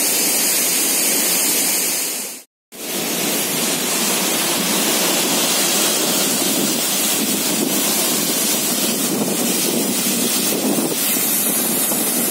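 A river waterfall pours over rock in a forest, giving a loud, steady, close rush of water with a brief dropout near the start.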